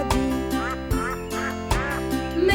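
Cartoon ducks quack in a French children's song about little ducks leaving the farm, giving repeated bright quacks in a steady rhythm over sung music.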